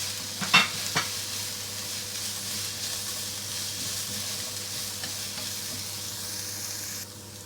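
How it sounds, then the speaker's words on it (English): Onion, carrot and vegetables are stir-fried in a wok for chicken chow mein, giving a steady close sizzle with a couple of sharp utensil clinks near the start, and no talk. "Fry them all together 1 to 2 minutes."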